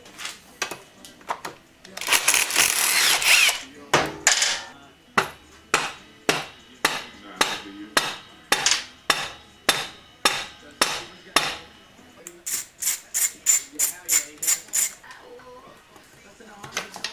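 Hammer striking metal to drive a bolt on a Honda Grom motorcycle engine during teardown: a long run of loud, evenly spaced close blows, steady then quickening, preceded by a brief burst of rattling.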